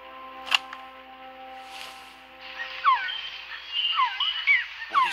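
Recorded bird call of a Quetzal in the jungle in the video game Metal Gear Solid Peace Walker, a series of clear whistled chirps and warbles over a faint tonal hum after a couple of sharp clicks.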